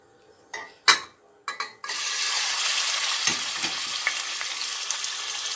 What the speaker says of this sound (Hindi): गोश्त हमारा फ्राई हो रहा है।